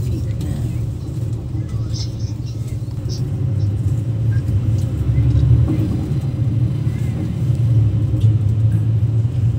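Road traffic near SM Pampanga, with car and bus engines rumbling steadily at close range, the low drone swelling midway, while people talk over it.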